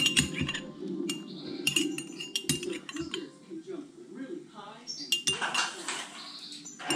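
A metal tablespoon clinks against a dish while a génoise layer is soaked with coffee for a layer cake, with sharp, irregular taps and scrapes up close alongside some other kitchen clatter.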